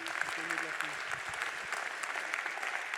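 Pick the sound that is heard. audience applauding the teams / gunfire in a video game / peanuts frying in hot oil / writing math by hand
audience applauding the teams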